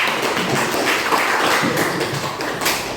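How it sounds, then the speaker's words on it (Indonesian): A classroom of students claps for a presenting group during a university lesson, a brisk, even patter of many hands filling the room close by, with no talk over it. "Beri tepuk tangan untuk Buddha."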